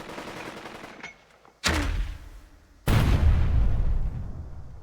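Off-map artillery fires in the wargame Burden of Command: two heavy, sharp blasts about a second apart, each followed by a rumbling decay, after a quiet opening.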